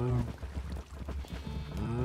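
Minecraft cows moo repeatedly in a farm pen, several low drawn-out calls overlapping near and loud, with short pauses between them and no talk.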